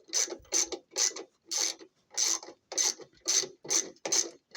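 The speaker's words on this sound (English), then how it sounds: "So just use your ratchet. Go ahead and work that in there." A hand ratchet tightens bolts on an LG washer stator, making ten evenly spaced bursts of close, rasping clicks separated by short pauses.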